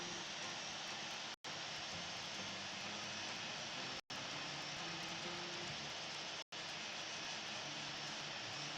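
Boeing 787-10 jet engines from the Infinite Flight game rumble steadily at taxi, a broad continuous roar that cuts out briefly three times, with no voices over it.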